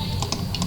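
Fingers type on a computer keyboard in a short, close run of four or five crisp key clicks at an uneven pace, with no voice.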